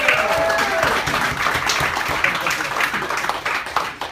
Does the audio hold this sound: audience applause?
yes